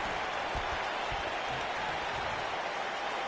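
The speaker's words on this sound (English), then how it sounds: "I don't remember the last time I heard a more passionate crowd than the one we have here tonight." A WWE 2K19 arena crowd at an Extreme Rules pay-per-view roars and applauds in a dense, unbroken wash of noise filling the whole stretch.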